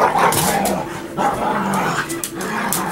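Dogs bark and yip in quick overlapping bursts while playing indoors, close and loud, with some whimpering between barks.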